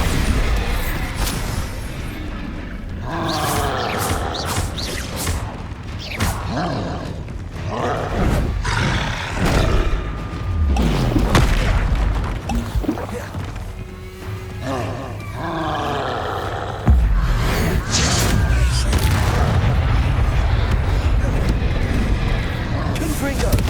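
A Bombarda blasting spell in Hogwarts Legacy gives repeated roaring, booming bursts amid busy game action, with a steady loud rumble in the second half and a voice talking at times.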